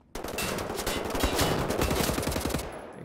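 Rapid gunfire bursts from first-person shooter Wolfenstein: The New Order, dense and close, rattling continuously for about two and a half seconds before cutting off, with no voices over it.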